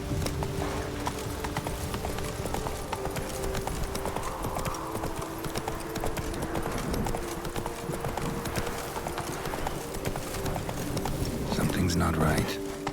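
Roach the horse gallops in The Witcher 3 during the Blood and Wine expansion, a steady run of hoofbeats that keeps going the whole time. Music and game ambience sit underneath and a voice talks over it.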